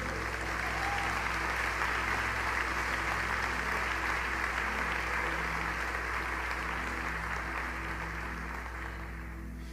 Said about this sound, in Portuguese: Dê um aplauso a Jesus nessa manhã